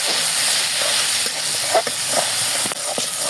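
Onion and green chillies frying with chopped garlic in a wok, a loud continuous sizzle and hiss close by, with a few light clinks of stirring.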